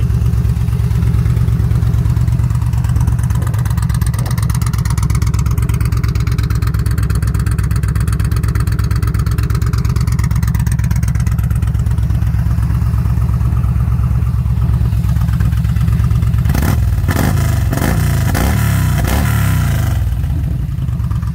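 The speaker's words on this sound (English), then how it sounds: "Vance and Hines pipe sounds good. Sounds really good on this bike." A 2014 Yamaha V-Star 950 Tourer motorcycle with a Vance and Hines exhaust runs loud and close, with a steady deep engine rumble. Sharp revs come in bursts near the end, and no one talks over it.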